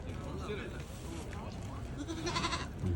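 A goat bleats a few times nearby, its wavering cries rising over a busy background of people talking.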